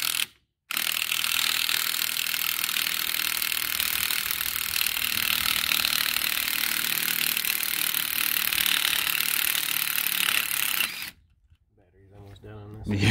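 A power tool zaps a pulley nut off the differential of a Nissan 300Z with one long, loud, continuous rattling burst of about ten seconds. It stops abruptly, and a person starts talking.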